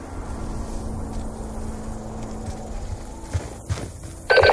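Horses walking in a video game, a soft steady clip-clop of hooves under a constant low ambient hum, with a sharper burst of noise near the end.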